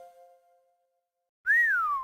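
A person whistles a single sliding, falling note, short and clear, from a hotel room in the video game Hotel Dusk, following a faint low tone and a brief silence.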